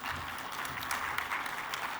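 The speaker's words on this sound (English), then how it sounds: "a round of applause to all our panelists" Steady audience applause for a panel of speakers at a health innovation conference, a dense, even patter of many hands clapping at moderate distance, continuous throughout with no voices standing out.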